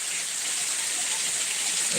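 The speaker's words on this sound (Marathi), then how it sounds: "बघा किती पाऊस पडतोय" Heavy rain pours down in a steady, dense hiss with no breaks, close and loud throughout.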